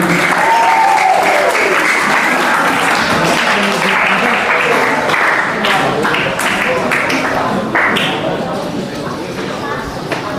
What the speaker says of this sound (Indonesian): Yuk, tepuk tangan untuk Mbak Tunjung.